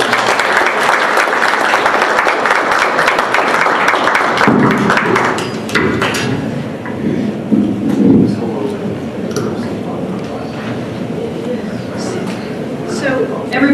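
Audience applause at a Tortoise Group meeting, loud and dense for the first few seconds before thinning out into scattered claps and room murmur.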